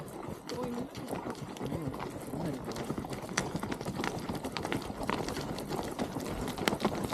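Hooves of Icelandic horses clip-clop in a quick steady rhythm on a riding tour through green Icelandic countryside, close and continuous, with people talking over the hoofbeats.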